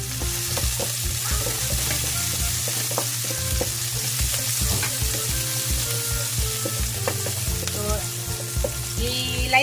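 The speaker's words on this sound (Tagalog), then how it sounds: "Light brown lang muna natin yung ating bawang." Garlic fries to light brown in a pan for a chicken and broccoli dish, sizzling loudly and steadily under a low hum, with occasional stirring scrapes.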